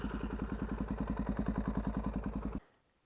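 Motorcycle engine idling ahead of an oil change, an even rapid thumping beat close to the microphone that cuts off abruptly near the end, leaving near silence.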